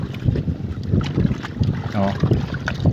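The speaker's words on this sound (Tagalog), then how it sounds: "medyo malalakas na yung alon at saka yung hangin" Strong southwest monsoon wind buffets the microphone with gusty roars over the churn of waves at sea in the Philippines, loud and rough throughout.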